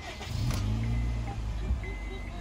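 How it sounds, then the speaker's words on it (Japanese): A Honda Fit RS (GE8) with about 90,000 km, fitted with Cusco coilovers, starting up: the engine catches and settles into a smooth, low idle hum, fairly quiet and close. "ちょっとエンジンかけてみたいと思います。"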